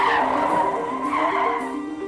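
A car brakes hard and skids, its tires squealing in a steady, loud, close screech that holds for about two seconds.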